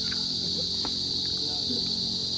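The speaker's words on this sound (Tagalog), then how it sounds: "Ang cute ng mga kuliglig." Crickets chirp steadily and loudly in a continuous high trill, with faint background rustles.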